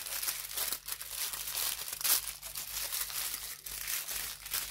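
Quail being wrapped into foil-like envelopes for grilling, producing continuous close crinkling and crumpling with occasional sharper tearing rustles.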